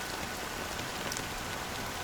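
Steady rain pattering on surfaces in the video game Honkai: Star Rail, a soft, even hiss of falling drops with no voices over it.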